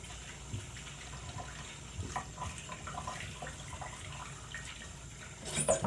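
Tap water runs steadily into a kitchen sink while tofu salad ingredients are rinsed in a strainer, a soft continuous hiss with light clinks and splashes, growing briefly louder at the end.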